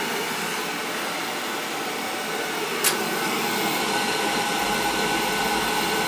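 An old, previously leaking boiler runs after repair with its thermostat jumped out, giving a loud, steady roaring hum that holds throughout, broken only by one brief sharp click near the middle; no one speaks.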